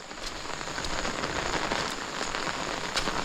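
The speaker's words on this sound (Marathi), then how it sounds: "पाऊस म्हणजे भयंकरच लागतो असं वाटतं की तो आगोटचाच पाऊस आहे" Heavy monsoon rain pours down steadily in a Konkan village, a dense, close patter drumming on surfaces with no break and no voices.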